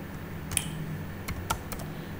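A handful of sharp, separate keystrokes on a computer keyboard while code is typed, crisp clicks spaced unevenly over a faint steady room hum.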